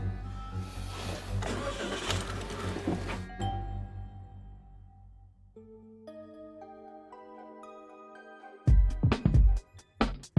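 A parked car's engine cranks and catches with a loud, rough roar that lasts a few seconds, followed by a run of soft chime tones and a couple of sharp, heavy knocks at the end.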